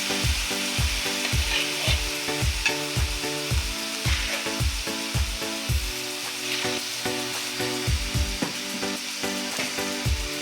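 Country chicken pieces sizzle in a pan with roasted grated coconut, the crackling frying broken by a steady rhythm of close spatula scrapes and stirs, with no talking.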